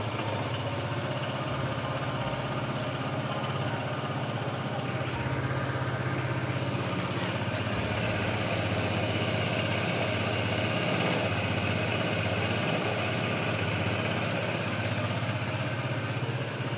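A Honda ADV 160 scooter engine runs at a steady idle after being started, a continuous low hum that holds close and even with no talk over it.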